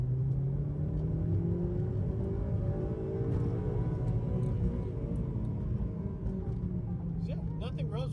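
An 8th gen Honda Civic Si on freshly fitted tires with rolled fenders pulls hard in a short test run, its engine note rising as it accelerates, loud and close with a steady rumble beneath, then easing off near the end.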